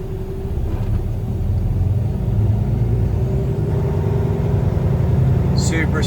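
Engine of a 2020 Kenworth T880 heavy daycab with an Allison automatic transmission, a deep steady rumble that builds as it revs, close and loud throughout.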